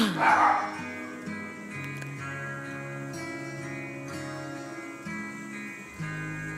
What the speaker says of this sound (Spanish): ¡Ay, mi perro!